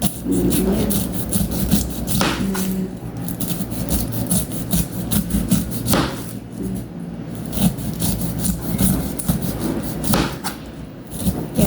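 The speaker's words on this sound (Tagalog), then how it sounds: "Paano rin ba kayo magbalat ng pinya?" A knife scraping and cutting the tough rind of a whole pineapple, with steady rough rubbing and rasping strokes that run continuously and close up, and a few sharper scrapes standing out.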